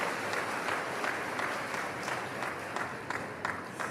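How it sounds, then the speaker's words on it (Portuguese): A church congregation claps loudly and steadily for the Word of the Lord, a dense, continuous wash of many hands applauding with no break. "Vamos aplaudir a palavra do Senhor bem forte"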